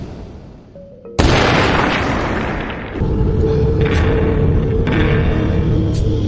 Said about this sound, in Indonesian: Grace berhasil melindungi diri dengan menembakkan pistol yang tersembunyi di dalam tasnya.